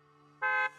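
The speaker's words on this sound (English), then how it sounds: "A loud honk echoes as several trucks with the Leaps and Bounds logo drive into the open area." A loud truck horn honks once, a steady tonal blast of about a quarter second, in the Zenless Zone Zero game as trucks bearing the Leaps and Bounds logo roll in, over a quiet low background hum.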